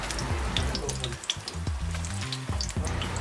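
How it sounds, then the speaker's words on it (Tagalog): Pieces of tofu frying in a pan of oil, a steady close sizzle with brief scraping stirs and dull knocks of a utensil against the pan. "Mabilis lang itong pagprito na ito"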